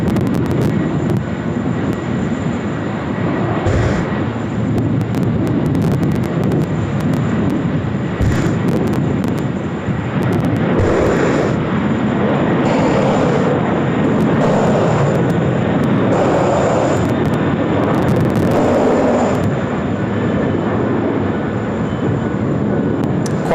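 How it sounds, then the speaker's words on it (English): A Qantas airliner on its Singapore-bound service begins its takeoff roll at Sydney Airport, producing a loud, continuous roar of jet engines that holds steady throughout with occasional swells and gusty rumble, heard from a distance with no voices. "Here we go, Qantas about to roll now."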